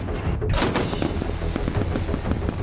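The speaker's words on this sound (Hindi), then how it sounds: "इस दौरान बड़े कैलिबर मशीन गनों और छोटे हथियारों से गोलीबारी की गई।" Large-caliber machine guns and small arms fire during Russian military drills at sea. Loud, sustained rapid bursts of shots overlap into a dense, booming barrage with no voices.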